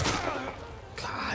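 Enemy gunfire in the game The Last of Us Part 1 comes as loud, rough bursts of shots at the start and again near the end, mixed with a voice talking.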